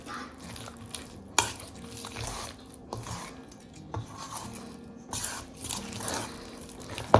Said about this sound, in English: Make sure you mix it really well